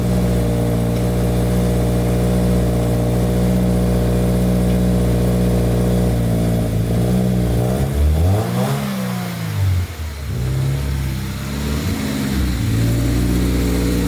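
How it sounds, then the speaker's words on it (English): A lifted Subaru Crosstrek with a Nameless aftermarket exhaust idles steadily, then revs up and down in a couple of throaty bursts before settling back. "we have this nameless exhaust that we added"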